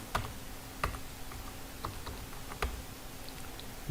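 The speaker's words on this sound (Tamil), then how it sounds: "இப்போ நான் இந்த இடத்துல சென்னைன்னு டைப் பண்ண போகிறேன்" Typing in MS Word on a computer keyboard: a handful of sparse, crisp key clicks spread unevenly over a few seconds, close and clear against low room noise, with no talking.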